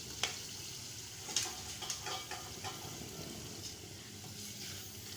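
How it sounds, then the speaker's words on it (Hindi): Finely chopped chilies frying in a pan for dhaba-style chana daal, a steady close sizzle with a few sharp stirring clinks early on, no voices. "अच्छे से भून लें, 1 से 2 मिनट।"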